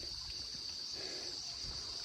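Water trickles faintly at a cold roadside spring on a rural mountain road, a soft continuous dribble heard alone at low volume with a steady hiss.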